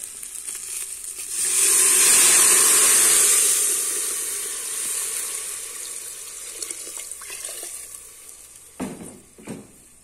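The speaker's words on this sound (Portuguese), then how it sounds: "Aí eu vou estar adicionando a água." A strong hissing, splashing rush of water poured into a pot of beans with meat cooking on a stove at a country farmhouse lunch, swelling for a few seconds then tapering, ending with a few clanks of pot or utensils.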